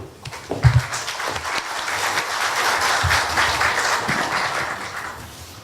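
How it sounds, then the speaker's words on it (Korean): An audience at a Korea University forum welcomes the university president back to the stage with steady applause, starting with a few louder claps and then swelling into a full, even round of clapping with no talk over it. "환영의 박수, 격려의 박수 부탁드리겠습니다."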